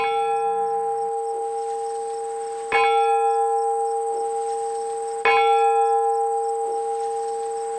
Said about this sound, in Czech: Hlas zvonu slovansky zní.